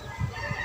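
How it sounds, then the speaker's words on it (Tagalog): Chickens cluck in a backyard coop, a couple of short low clucks close by over a steady outdoor background, brief and without talk. "So, yan yung mga manukan ko. Mga manok ko."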